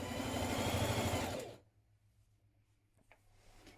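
A sewing machine stitches a dress lining pocket in one close, steady run of fast whirring for about a second and a half, then stops, leaving near silence with a couple of faint clicks.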